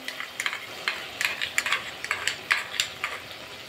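Ground cashew and poppy seed paste frying with spices and tomato in oil for a cauliflower and chickpea curry, with an irregular run of spoon scrapes and stirring clicks against the pan.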